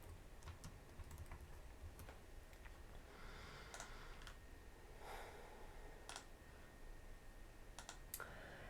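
Quiet, close typing on a computer keyboard while renaming an object in 3ds Max 2022, scattered key clicks in short bursts with no speech.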